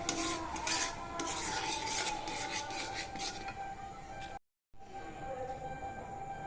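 Semolina is stirred in a pan while water is added a little at a time, a continuous rasping scrape of the spoon against the pan, with a brief cut of silence before the scraping resumes more softly.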